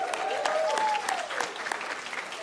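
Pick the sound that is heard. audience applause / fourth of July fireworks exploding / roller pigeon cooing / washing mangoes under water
audience applause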